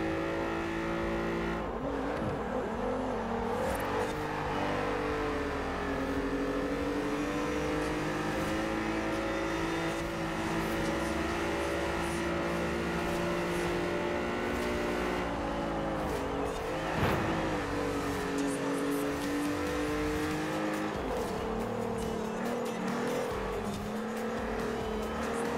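Race car in a Forza Horizon 4 race roars steadily, its engine rising and falling through gear changes for the whole stretch, with occasional tire squeal and no voices.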